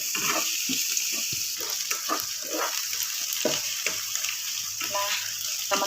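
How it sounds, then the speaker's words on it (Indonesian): Onion, lemongrass and ground pepper sautéing in a pan for broccoli soup give a steady hiss broken by repeated scraping stirs and clinks of the utensil, close and moderately loud. "Kita tumis sampai aromanya keluar ya teman-teman ya."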